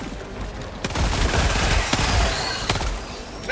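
Sustained automatic gunfire in Helldivers II, loud and close, with sharp individual cracks punctuating the steady roar of shots.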